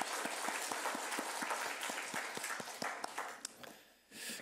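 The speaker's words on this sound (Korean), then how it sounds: "하나님께 영광의 박수를 합니다" A church congregation claps together in a steady, rhythmic beat, the applause fairly quiet and roomy before it breaks up and fades near the end.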